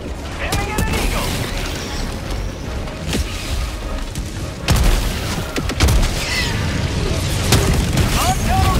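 Heavy explosions boom in a video game battle, several loud deep blasts standing out amid continuous gunfire and mechanical clatter while players talk over the chaos.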